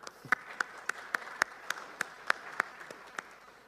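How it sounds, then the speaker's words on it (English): Sparse, faint clapping from a small audience, a dozen or so separate claps spaced fairly evenly over a few seconds. "please give an applause to them"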